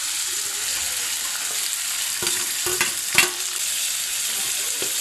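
Tomatoes and curry leaves sizzle steadily in a hot pan, with a few distinct clanks and scrapes of stirring near the middle, close and fairly loud with no talking.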